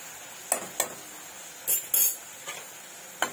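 Onion and ginger-garlic paste are stirred in a pan for a cauliflower and pea dry curry, with quiet scattered clinks of a spoon against the metal in irregular taps and little sizzle.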